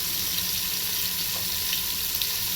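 Spices sizzle steadily in hot oil for a Maharashtrian Bhogi mixed-vegetable dish, a continuous close frying hiss with no voices.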